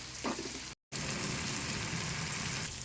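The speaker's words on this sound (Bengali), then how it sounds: "এবার চিংড়িগুলোকে ভেজে নিচ্ছি।" Small shrimp with a pinch of salt and turmeric fry in hot oil, giving a dense, steady sizzle close by that broken only by one brief dropout.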